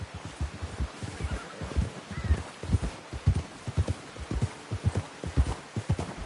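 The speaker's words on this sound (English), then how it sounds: "get that horse in line, Arthur." Steady clip-clop of horse hooves in Red Dead Redemption 2, a quick even rhythm of hollow thuds close by, continuing throughout with no talking.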